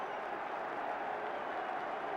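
Dense, steady applause and crowd roar from a football stadium crowd at a Leeds United match, sustained and broad throughout with no break.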